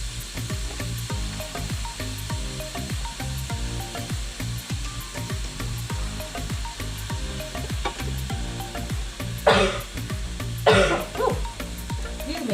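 Ground beef sizzles in an already hot skillet, a steady close crackle and hiss running throughout, with a fan humming and a couple of brief louder scraping bursts near the end.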